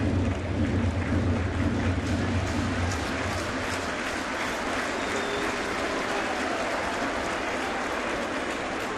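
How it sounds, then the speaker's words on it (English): Baseball stadium crowd at a New York Yankees home game against Baltimore, a broad sustained wash of cheering and applause that stays loud and steady throughout, with a deeper rumble in the first few seconds. "Well, crowd's coming alive."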